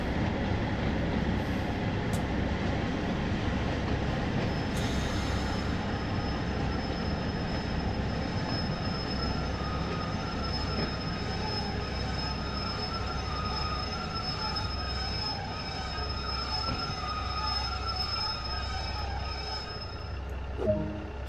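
A simulated train runs steadily through the West Cornwall local route in Train Sim World 2, with a continuous rumble of wheels and carriages and faint squeals, heard without talking.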